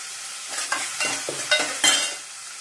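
Tomato and green chilli are stirred into a hot tempering in a pan for wheat rava upma, giving a close, steady sizzle broken by several scraping spatula strokes.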